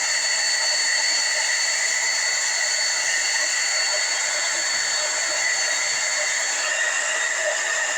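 A hair dryer blows steadily throughout, a constant airy whoosh with a high whine, close and fairly loud, no voices.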